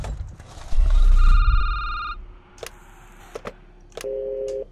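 Electronic telephone ring tones in a security booth horror video game, a loud ringing burst followed by quieter beeps and tones in a sparse, eerie setting.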